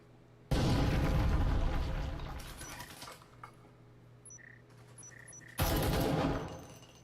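Gunfire and a grenade in the VR shooter Breachers: two loud, heavy bursts of shots and blasts separated by a quieter gap holding faint tones and distant noise.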